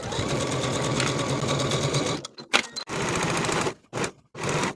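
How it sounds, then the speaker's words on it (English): A sewing machine stitches the side seams of a peplum top, running in loud, steady bursts close by: a long continuous run, then a few short starts and stops, with no talking. "pin and sew your side seams with a 5/8 inch seam allowance"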